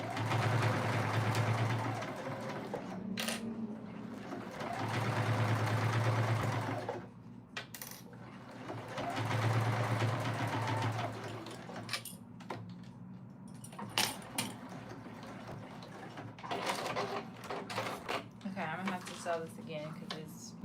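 Sewing machine running in bursts while stitching a fanny pack, redoing a basted seam with a real stitch; three steady low hums of a few seconds each, followed by handling clatter and rustling.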